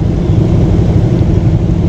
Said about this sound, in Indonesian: Wah, ini ada bus Rosalia Indah Scania K410.